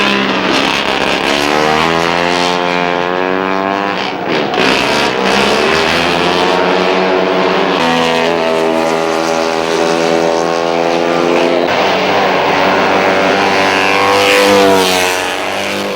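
Mono 1000 front-wheel-drive single-seater race cars at the 1989 Grand Prix de l'Age d'Or scream close and loud, revving up and down through the gears as they pass, with no talking.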